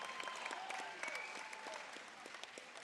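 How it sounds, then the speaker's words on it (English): Crowd applause at a Warrior Nation XFA mixed martial arts event for fighters Steve Karr and Carl Langston Jr., a steady wash of clapping from a fairly distant audience with a few whistles, fading slightly toward the end. "how about a nice round of applause once again for Steve Karr and Karl Langston Jr."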